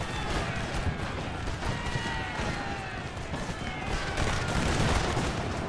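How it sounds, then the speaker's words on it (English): Artillery barrages pound the battlefield in Napoleon: Total War, making a dense, continuous roar of distant booms and crackling impacts that builds slightly near the end. "Look at the artillery hits that are coming in."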